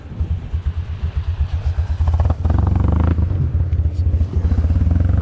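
Car engine revving hard for a clutch dump test while learning to drive a manual, starting as a pulsing low idle rumble that surges into a loud, sustained close rev.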